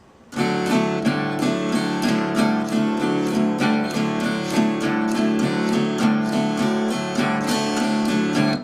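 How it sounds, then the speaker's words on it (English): Steady acoustic guitar plays a continuous pull-off figure, the opening of a song, with ringing repeated notes. It sounds close and clear and continues without pause, with no voice. "He's just playing like a continuous pull off"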